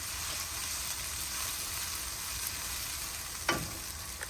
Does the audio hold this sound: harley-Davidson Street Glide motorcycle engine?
no